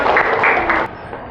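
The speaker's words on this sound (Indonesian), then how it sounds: "Tepuk tangan dulu untuk kelompok CRJ." A group of classmates applauds after finishing a class presentation, a dense burst of clapping for about a second that then cuts off to quieter room sound.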